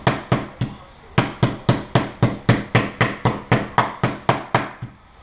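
A meat hammer pounds veal for Vienna schnitzel on a table, a loud, steady run of about sixteen sharp, even thuds with one short pause near the start.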